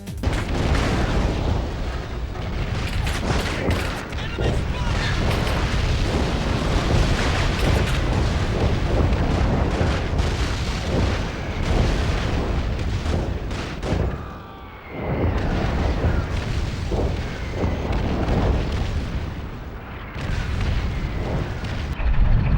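Bombing explosions in the video game Call of Duty 2: Big Red One, a loud, dense barrage of booms and artillery blasts rumbling almost nonstop, with a short lull midway, and no voices.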